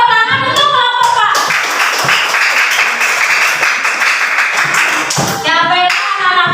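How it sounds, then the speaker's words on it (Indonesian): Classroom of Indonesian schoolchildren clapping for a student group after its presentation, a loud close burst of many hands lasting several seconds, framed by children's voices before and after. "Tepuk tangan untuk kelompok Pak."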